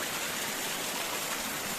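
Cold stream water rushes and splashes steadily as someone washes in it, a dense continuous wash of close water noise with no pauses.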